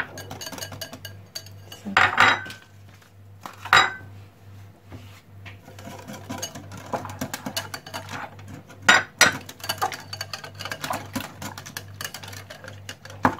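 Custard powder mixture is stirred in a pot, a utensil clinking and scraping against the metal in scattered bursts, louder clatters standing out between softer, quieter stirring with a low hum underneath.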